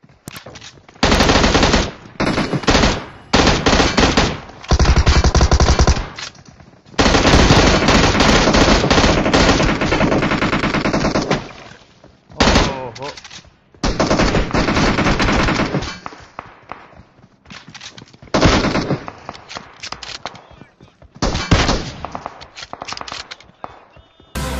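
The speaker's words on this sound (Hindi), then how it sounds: "जब इन्होंने M16 से जब दो वनडे नॉकआउट कर दिए, तब इन्होंने जब दो K98 से शॉट्स मारे थे वो भी क्लोज रेंज में" Video game gunfire from M16 and K98 rifles, loud rapid automatic bursts and sharp single shots in long dense stretches separated by brief pauses.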